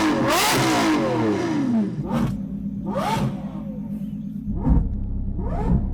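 A Lamborghini Revuelto's 6.5 litre V12 revs hard several times, loud sweeping rises and falls over a low rumble, heard close with no talk.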